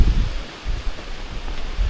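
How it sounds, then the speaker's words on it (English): Wind gusts on the Appalachian Trail ahead of a storm, heard as a low, rumbling roar of wind noise against the microphone. It swells and eases in short surges over a steady broadband hiss, with no talk. "it is really getting windy"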